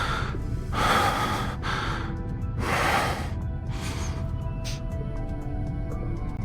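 Heavy, close breathing from a male character in the romance game Love and Deepspace, several deep breathy gasps and exhales rising and falling over a steady low musical backdrop.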